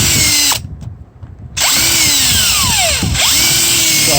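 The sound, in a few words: power drill drilling holes with a dull bit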